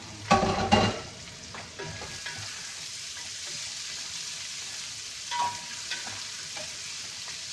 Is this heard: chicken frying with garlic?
yes